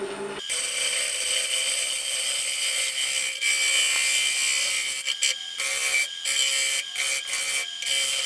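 A woodturning gouge cuts a pecan hardwood bowl on a lathe, giving a steady loud scraping hiss broken by brief gaps as the tool lifts off and re-engages, with no voices.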